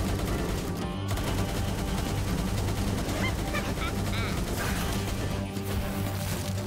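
A Pal creature fires a gun in Palworld: rapid bursts of gunfire rattle over a constant backdrop of game music and effects, steady and close throughout.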